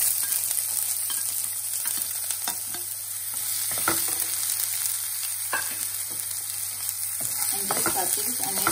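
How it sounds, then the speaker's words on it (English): Chopped onion sizzles steadily in a pan of oil with browned garlic, a close, continuous frying hiss broken by occasional scraping and stirring sounds. "Now we'll add this onion to it."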